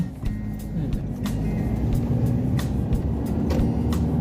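A car cruising along Thailand's Highway 3 on a coastal road trip, a steady close engine and road rumble with tyre hiss and periodic thumps from the road surface, no talking.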